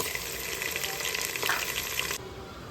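Onions sizzle in hot oil with ginger-garlic paste for a drumstick biryani, a steady, close frying hiss that cuts off near the end, leaving a quieter background.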